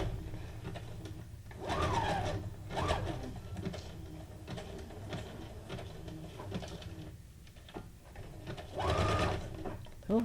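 A sewing machine runs in short bursts while stitching zigzag stitches on junk journal mini tags, a quiet rattling hum that starts and stops repeatedly, with a person talking softly in between.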